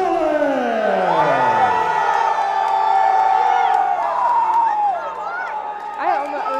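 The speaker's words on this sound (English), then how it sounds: "you can hear the crowd" A loud arena crowd at an MMA event in Spartanburg, SC roars and cheers steadily as a fighter makes his entrance, with shouts and whoops rising over a dense wall of noise and announcing voices mixed in.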